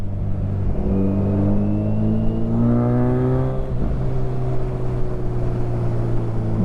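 A Kawasaki Ninja 1000SX motorcycle with a Black Widow exhaust runs close by, a steady loud engine drone with a rev rising and falling midway, then settling back to a throbbing idle.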